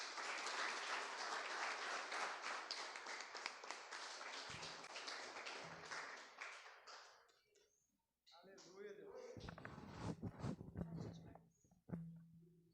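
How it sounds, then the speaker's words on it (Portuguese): A church congregation applauds in praise, dense sustained clapping that fades out midway, followed by a voice speaking with scattered claps. "As palmas louvam o Senhor."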